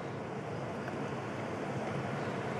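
Incoming tide washing over a rocky shore of rock pools, a continuous broad wash of surf and wind-blown water close by, steady and fairly loud with no voices.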